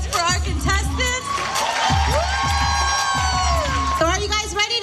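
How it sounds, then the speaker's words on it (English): Audience at a live event whooping and cheering for contestants, a loud sustained crowd roar with shouts and high yells over music-like tones throughout. "One final round of applause for our contestants."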